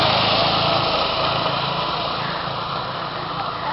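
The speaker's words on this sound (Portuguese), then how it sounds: "Olha a moto aí." A motorcycle engine drones continuously at close range, a steady buzzing whine that holds at a fairly constant loudness throughout with no speech over it.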